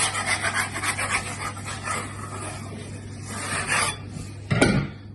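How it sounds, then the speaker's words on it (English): A plastic scraper rasps and scrapes bread dough off a floured counter in repeated close strokes, ending with a sharper scrape. "You can use a scraper to kind of pick it up like this"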